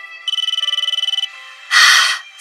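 A mobile phone rings with a fast, pulsing electronic trill lasting about a second, loud and close, followed by a short burst of rustling noise.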